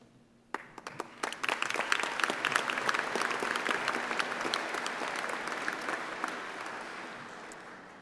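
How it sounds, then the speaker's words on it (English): Audience at a university graduation ceremony bursting into applause, dense clapping that starts suddenly, stays full for several seconds in a large hall, then gradually thins and fades. "I promise no more clapping for at least 2 minutes."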